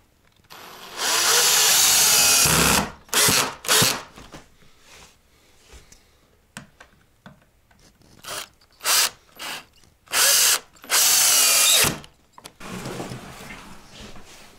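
Power drill driving self-tapping screws into fiberboard Dadant beehive box panels, with loud close bursts of whirring in several runs of varied length separated by quiet handling noises.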